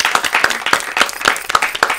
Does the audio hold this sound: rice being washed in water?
no